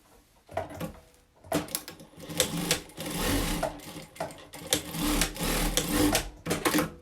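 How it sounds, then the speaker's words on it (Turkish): Sewing machine stitching a slipper pouch, rapid mechanical needle chatter in several bursts of varying length separated by short pauses, close and clear. "Şu iki dikişin olduğu kısma şuraya kadar dikiş dikeceğim."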